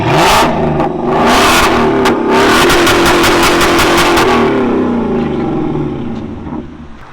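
A 2024 Ford Mustang GT with a 5.0L V8, Corsa Double Helix exhaust and muffler delete revs loudly and repeatedly, with sharp throttle blips and crackles before the engine settles back toward idle.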